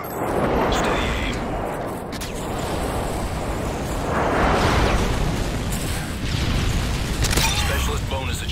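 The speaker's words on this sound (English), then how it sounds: "Enemy airstrike approaching." Airstrike explosions in Call of Duty Modern Warfare 3 multiplayer, a dense rumbling barrage of booms rolling on continuously with bursts swelling and fading, loud and near, with game voice callouts mixed in.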